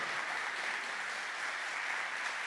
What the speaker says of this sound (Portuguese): Eu quero que você aplauda isso.